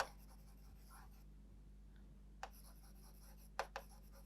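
Chalk or marker writing on a board during a Hindi-language organic chemistry lesson on IUPAC naming, with a run of soft scratchy strokes at first, a pause, then a few sharper taps and strokes near the end, no voices.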